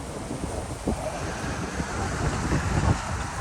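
Surf breaks at the beach along Ocean Drive, heard from a nearby balcony as a steady broadband wash mixed with wind buffeting the microphone.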